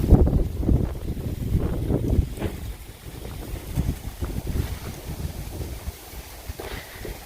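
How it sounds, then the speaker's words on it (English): Strong, cold wind at a lakeside campsite, gusting against the microphone in low buffeting roars that ease off midway, with no voices. "windy out here. So windy."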